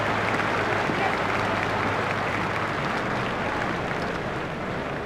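A cricket crowd applauds a batsman reaching his fifty in a New Zealand–Australia match, sustained loud clapping and cheering throughout, broad and steady.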